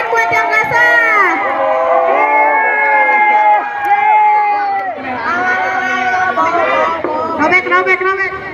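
A crowd at a ballot count cheers and jeers loudly, with children shouting, whoops and overlapping voices rising and falling in waves throughout.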